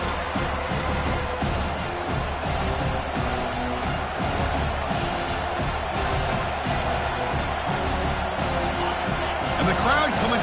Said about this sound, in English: The crowd coming to life here